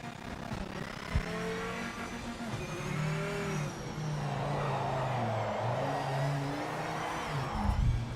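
Race car engine in the Project Motor Racing sim revving and shifting through gears, rising and falling pitch sweeps over a steady drone, moderately loud with no talk.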